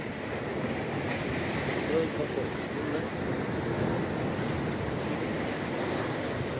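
Sea waves wash steadily onto the shore at Diu beside a seaside temple, a continuous broadband surf roar with some wind noise on the microphone and no clear breaks.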